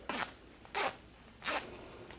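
Three quick zipper pulls on a fabric pencil case being sewn, each a short bright rasping burst separated by brief pauses, close and clear against a quiet background.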